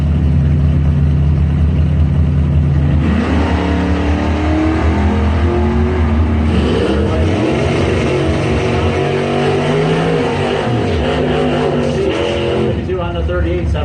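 Ford Mustang doorslammer drag race cars at a drag strip event, engines roaring loud and close with rising revs and a sustained full-throttle howl throughout, with a commentator talking over the din.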